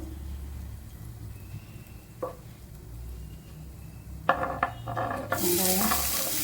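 A utensil clinks and scrapes against a pan of hot oil with cumin seeds, then chopped onions drop in and burst into a loud, steady sizzle up close, with no one talking.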